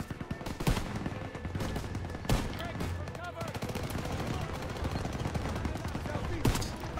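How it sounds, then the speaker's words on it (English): Sustained automatic MG-42 machine gun fire in the Call of Duty WWII campaign, dense, loud rattling bursts with heavy impacts running throughout amid battlefield noise and shouting voices. "MG-42s! They're behind the tanks!"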